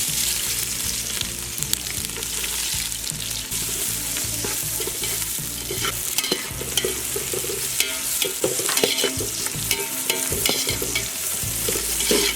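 Onions frying and sizzling in hot oil for Dindigul thalappakatti biryani, stirred steadily in the pan, with a continuous close, loud crackle and scraping stir strokes throughout.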